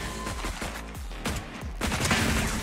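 Gunfire from the tactical shooter Valorant: several sharp shots in uneven bursts, some close together, over a steady game background with a busier stretch of shots near the end.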